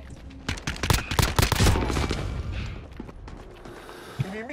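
Rapid bursts of gunfire from Call of Duty: Modern Warfare crack in quick succession, loud and close, then thin out into scattered shots and faint mechanical clicks.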